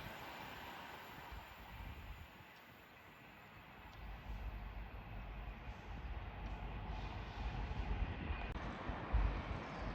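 A West Midlands Trains class 196 diesel unit, 196.005, at Nuneaton on the West Coast Main Line, idling and then rumbling louder as it readies to depart for Leamington Spa, a steady low drone building over ten seconds.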